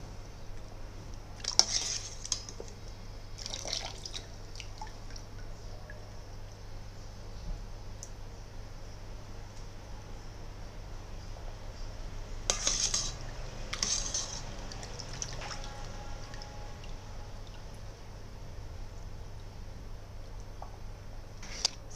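A spoon scoops Thai taro dumplings in sweet coconut milk with pandan leaves into a bowl, giving a few soft clinks and wet scrapes at spaced moments over a quiet steady background hum.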